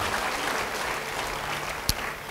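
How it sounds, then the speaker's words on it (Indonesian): A church congregation gives applause during a pastor's sermon, a broad, steady wash of clapping with one sharp knock near the end. "Yang mau beri tepuk tangan bagi dia."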